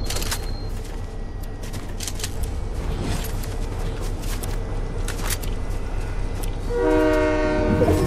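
A train rolls past in the Warzone video game with a steady rushing rumble and faint clicks, then a horn sounds near the end.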